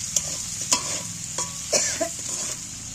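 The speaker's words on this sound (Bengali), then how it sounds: "এগুলো খুব কড়া করে ভাজবো নি একটু হালকা করে ভেজে নেব" Two fish pieces lightly frying in a pan, an even close hiss of oil punctuated by several sharp spatula clinks and scrapes.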